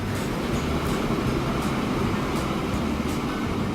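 A train passing in the Transport Fever simulation game, a steady continuous rumble with soft rhythmic clicks of wheels on rail, even and unbroken throughout with no talking.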